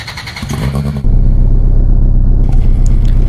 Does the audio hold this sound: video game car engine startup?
yes